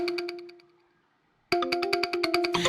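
A phone ringtone effect from an editing sound bundle plays a bright, repeating electronic ring pattern. It fades out, goes briefly quiet, then restarts at full volume with rapid pulsing tones.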